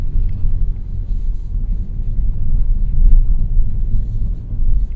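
A 2025 Kia K5 GT rolls slowly over road bumps, giving a steady, muffled low rumble heard from inside the cabin, with no talking.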